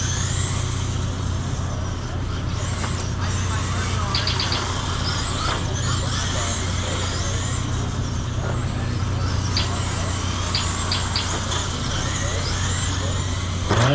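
Small RC cars race around a pavement oval track at an indoor hobby shop, their motors whining constantly with occasional tire squeals beneath a loud, continuous wash of noise, while people talk over it.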